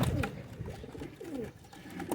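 Pigeons kept as pets coo close by in low, throaty rolling calls that repeat through the short stretch, with no talking.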